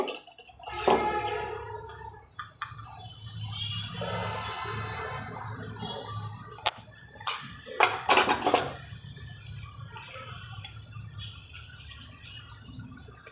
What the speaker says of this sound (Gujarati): આ મેં ભીંડાને આવી રીતના સુધારી લીધેલા છે બધાને હવે એમાં હળદર મીઠું ભેળવશું આપણે